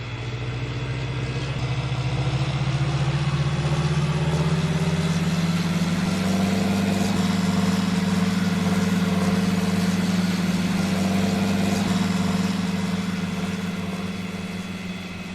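A tractor engine in Farming Simulator 19 runs steadily for the whole stretch, a loud, continuous low drone whose pitch rises slightly as it works harder and then holds, with no talking.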